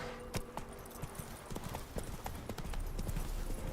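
Roach, the horse in The Witcher 3: Wild Hunt, clip-clops along with a steady run of hoofbeats, crisp and fairly close, over a faint game background.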